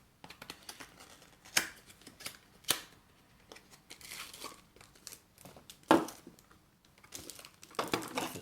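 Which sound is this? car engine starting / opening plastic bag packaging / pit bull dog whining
opening plastic bag packaging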